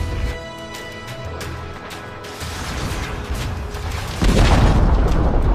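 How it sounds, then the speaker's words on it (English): Dota 2 battle as the Dire middle tower comes under attack: loud, dense game sound with layered effects, swelling into a heavy booming crash near the end, with no talking. "Dire's middle tower is under attack."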